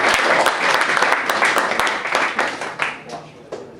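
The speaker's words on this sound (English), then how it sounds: "Round of applause, guys." A comedy club crowd applauds loudly: thick clapping that gradually thins and fades into scattered claps by the end.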